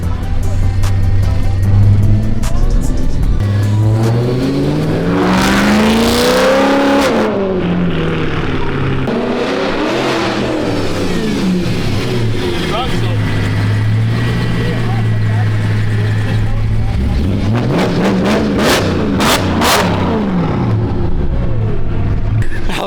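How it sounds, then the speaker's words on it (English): A rebuilt BMW E92 M3 with a DCT transmission, recovered from a rollover, drives with engine tones rising and falling through gear changes, close and loud, while people talk excitedly over it. "We're driving the car."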